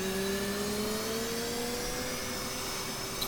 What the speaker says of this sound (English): now both engines are spooled up